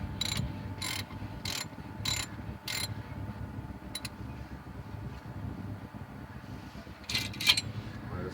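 A hand ratchet clicks in quick, evenly spaced bursts while bolts are tightened after a brake pad change on a 2004 Oldsmobile Alero, close and fairly quiet, with a few sharper clicks toward the end over a low steady hum.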